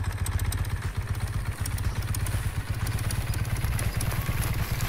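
A motorcycle in the farming game Farmer's Life idles and clatters steadily with a low, chugging engine rhythm, fairly quiet and alone with no voices.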